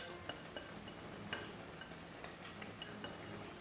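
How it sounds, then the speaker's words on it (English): Tomato is stirred into a bean stew in a pot, with a steady soft sizzle and scraping, punctuated by a few light clinks and spoon knocks, close and even, with no talking. "I'm just gonna stir that to mix it"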